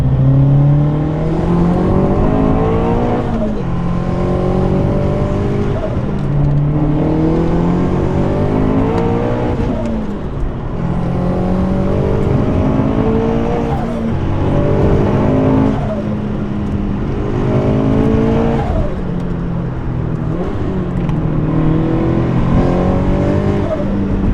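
A turbocharged Subaru BRZ engine revs loudly and repeatedly, each rise in pitch climbing and falling in steady waves with turbo whine over the exhaust, heard close with no talking.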